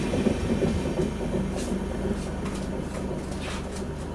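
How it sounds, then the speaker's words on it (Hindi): Khongsang Jan Shatabdi Express, a diesel-hauled passenger train, rolls out of a station with a steady low rumble and faint rhythmic wheel clatter, fairly close, with no talk over it. "अपनी ट्रेन आई है और खोंगसंग जनशताब्दी खोंगसंग एक्सप्रेस ये तुरंत यहाँ से निकल रही है।"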